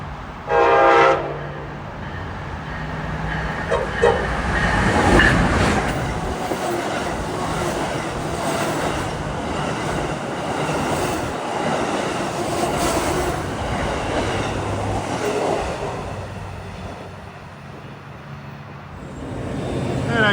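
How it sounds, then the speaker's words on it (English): An Amtrak passenger train passes on the Metro-North corridor near Milford, Connecticut, with a sharp horn blast at the start, then a long steady rumble and clatter of cars rolling by at close range before easing off. "Is Amtrak 152, Washington to Boston."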